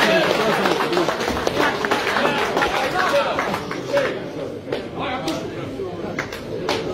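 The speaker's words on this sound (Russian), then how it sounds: "Аплодисменты, Мирон просит" An audience applauds after a fight ends when the blue-corner fighter's corner throws in the towel. The clapping is dense and steady, blended with crowd chatter and an announcer's voice throughout.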